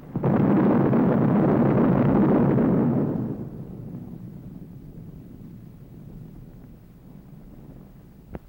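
A loud, sustained roaring blast from an atomic bomb explosion fills the first three seconds, then fades into a long, low rumbling wind-like tail with a faint pop near the end.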